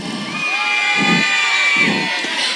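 A high-school crowd at a school theater performance cheers and shouts loudly and continuously, with a high whistle-like tone running through the noise and a few low thumps underneath.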